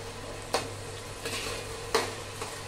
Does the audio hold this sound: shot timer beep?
no